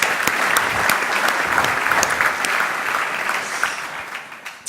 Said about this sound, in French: on peut applaudir ça, on peut l'applaudir.